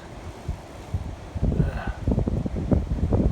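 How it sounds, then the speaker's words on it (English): Strong wind buffets the microphone in loud, gusty rumbles that grow rougher and more frequent toward the end, with leaves rustling faintly underneath. "but not if it's windy like this"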